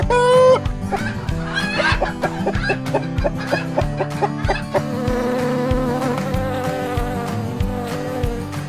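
A bee buzzes in a continuous, wavering drone that grows fuller toward the end, set over background music with a steady pulse.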